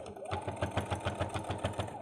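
A sewing machine stitches a zipper onto a coin purse, its needle hammering in a fast, even rhythm of about eight beats per second with a steady motor hum, close and alone.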